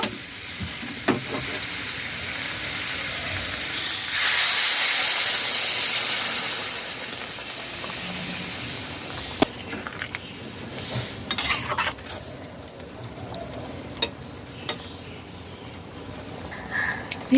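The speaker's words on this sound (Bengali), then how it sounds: "মশলার সাথে ভালো করে নাড়াচাড়া করে নিলাম গরম জল অ্যাড করে দেব" Hot water is poured into a pan of frying cauliflower, potato and soybean curry, raising a loud burst of sizzle and steam, then clinks and scrapes from a utensil stirring follow, close and sharp.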